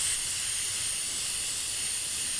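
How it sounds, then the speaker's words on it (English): Flex Seal liquid rubber sprays steadily from an aerosol can into a metal strainer, a loud, continuous close hiss lasting throughout with no pauses. "I'm going to spray it inside this strainer"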